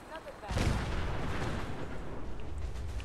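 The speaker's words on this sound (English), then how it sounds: "Something exploded." A loud explosion in Fallout 4 hits suddenly after a quiet moment, a deep rumbling blast that rolls on with crackling debris and lingering noise.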